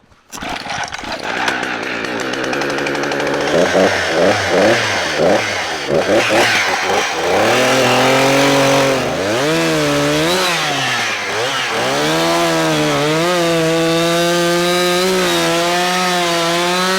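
An old Kenworth truck's two-stroke diesel engine is cranked, catches and runs, rising through revving surges before settling into a loud, steady idle close by, with no talking.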